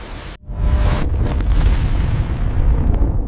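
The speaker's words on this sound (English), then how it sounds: "The asteroid struck with the force of 10 billion atomic bombs." An asteroid impact explosion, a sudden deep boom after a brief cut to silence, followed by a long, loud, rumbling roar that slowly fades.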